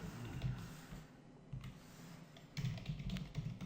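Quiet, close tapping on a computer keyboard while JavaScript code is entered, with irregular bursts of keystrokes separated by short pauses.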